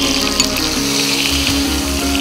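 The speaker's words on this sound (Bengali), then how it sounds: "আচ্ছা, এবার আমরা চিংড়ি মাছটা ভেজে নেব।" Prawns fry in hot oil with a loud, dense, continuous sizzle and low bubbling throughout.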